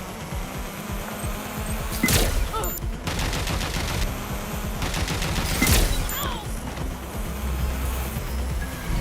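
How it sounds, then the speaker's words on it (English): Gunfire in Watch Dogs Legion crackles steadily as bursts of shots, with two sharp loud reports standing out, over a constant buzzing background. "They're shooting!"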